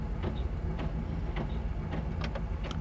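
Windshield wipers on a 1968 Chevrolet Camaro SS sweep back and forth, a faint rhythmic clicking and swishing roughly every half second over a low engine hum.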